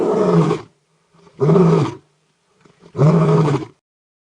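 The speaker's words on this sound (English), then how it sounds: "What you heard was none other than the majestic Bengal tiger." A Bengal tiger roars three times, deep and powerful, each roar lasting about half a second, with brief silences between them.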